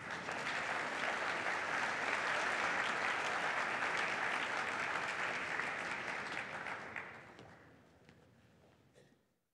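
An audience applauds a welcome for MIT President Rafael Reif at the MIT Quest for Intelligence launch, with steady, full clapping from a large crowd that holds for about seven seconds and then thins out and fades.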